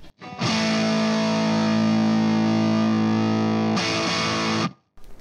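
A heavily distorted guitar chord through an Orange OMEC Digital amplifier at distortion level 6 rings out, sustained and buzzing, then is briefly restruck before cutting to silence.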